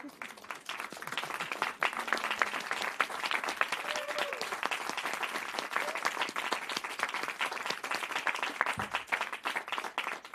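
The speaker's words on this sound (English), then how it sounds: "let's give everybody a warm round of applause" An audience at a Davos climate hub session gives a warm round of applause, a continuous, fairly distant wash of many hands clapping for around ten seconds, with faint voices underneath.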